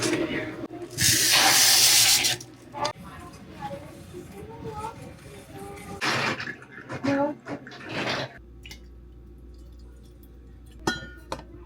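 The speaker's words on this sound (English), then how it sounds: "Time for some pour over coffee." Water poured by hand over ground Hawaiian coffee for pour-over brewing: a loud, steady hissing pour lasting about two seconds near the start, then softer clinks and intermittent trickles with quieter pours later.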